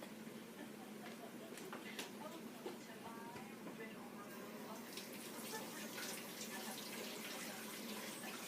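Tap water runs steadily as hands are washed under it at a sink, a continuous close splash and trickle with small bumps and clicks, preparing to make slime.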